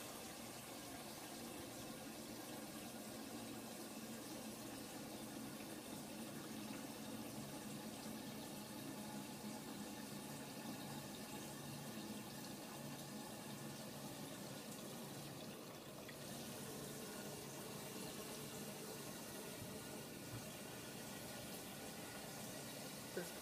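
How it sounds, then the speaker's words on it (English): Water runs steadily into the refugium compartment of a 29-gallon reef tank, a continuous broadband wash of pouring and gurgling that stays at an even, moderate level throughout with no talking. "This compartment is filling up nicely."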